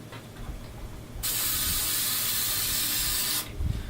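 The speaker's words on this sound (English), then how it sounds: "spray a little of this silicone down the barrel." A steady silicone aerosol spray hisses down a gun barrel for about two seconds, loud and close, framed by faint handling clicks before and after.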